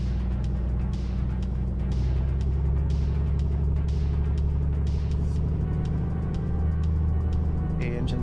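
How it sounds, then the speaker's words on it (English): Piper Comanche light aircraft engine running in Microsoft Flight Simulator 2024, a loud, steady low propeller-engine drone with a deep rumble that rises slightly partway through and stays constant to the end. "The engine sounds good."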